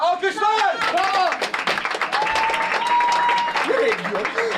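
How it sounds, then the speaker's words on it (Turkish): Audience applause at an improvised theatre show, dense clapping sustained throughout with shouts and speech heard over it. "Alkışlar! Bravo!"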